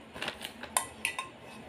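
Black pots from a set of four are handled, giving a few light metallic clinks and knocks, close and quiet, with no talk.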